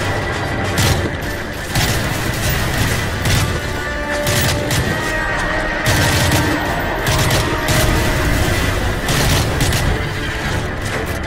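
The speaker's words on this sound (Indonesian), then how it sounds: "dari mana itu mana sih yang nembak nembak" Call of Duty Modern Warfare 3 gameplay combat, a loud, dense barrage of gunfire and booming blasts that runs steadily and continuously without letting up, with no voices.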